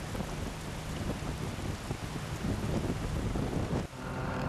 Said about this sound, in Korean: 빗줄기는 눈앞을 가릴 정도로 세차게 퍼붓는다